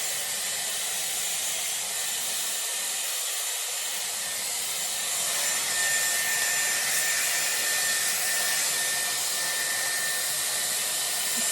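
A Dyson Airwrap hair dryer blows steadily and loudly, a continuous broadband airflow hiss during a round-brush blow-dry of hair, with a brief dip in low rumble partway through before the steady roar resumes.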